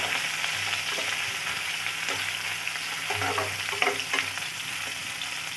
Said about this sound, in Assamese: এতিয়া মই কাটি ৰখা পিঁয়াজখিনি ইয়াতে দি দিম আৰু এতিয়া মই ভালদৰে এইখিনি অকণমান লৰাই দিম